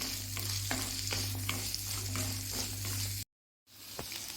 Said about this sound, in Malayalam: ഇത് നല്ലപോലെ ഒന്ന് വഴറ്റിയെടുക്കണം